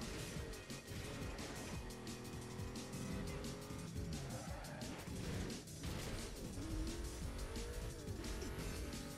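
A Ford GT engine in Need for Speed Most Wanted roars steadily and loud throughout, with pitch sweeps as it shifts gears and tires squeal at moments.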